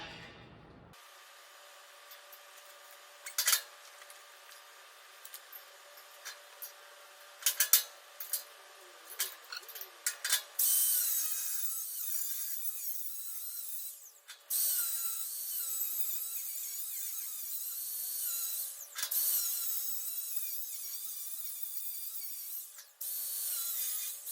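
Trailer metal is cut at an angle during a boat trailer restoration for a MasterCraft Prostar: scattered short rasping strokes, then a longer continuous, fairly faint cutting noise with brief pauses.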